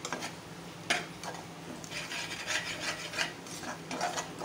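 Turmeric and masala spices sizzle in oil in a pressure cooker for prawn biryani, with a spatula stirring and scraping the pan in an irregular rhythm, close and clear with no talking.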